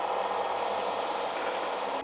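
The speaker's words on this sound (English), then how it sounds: "I'm going to clean up these welds now on the belt sander" A belt sander grinds welds clean on forged steel for a long-handled door stop, producing a steady, loud, continuous abrasive rasp close up, with no pauses or speech.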